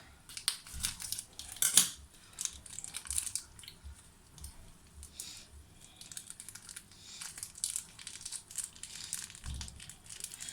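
Scissors snip and crinkle open a plastic ranch coleslaw kit bag at close range, with faint rustling and crumpling of the packaging.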